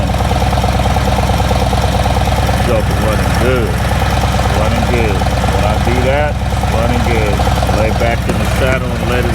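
A motorcycle engine idling up close, a loud steady low-pitched throb with a rhythmic pulsing, running continuously with slight wavering in tone.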